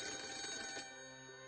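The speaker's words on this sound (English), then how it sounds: "my cell phone, sitting on the table, started ringing" A cell phone on a table rings with a bright electronic tone, close and fairly loud, a single ring burst cutting off partway through and leaving a fading hum.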